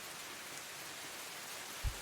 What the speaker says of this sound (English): And the rains are pouring up top.